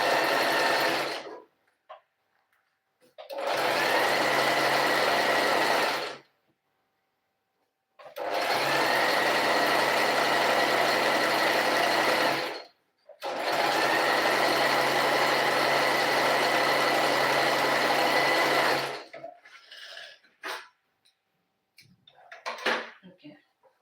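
A sewing machine stitches fabric in three long, steady runs of several seconds each, separated by pauses, with faint handling clicks and rustles near the end and no talk.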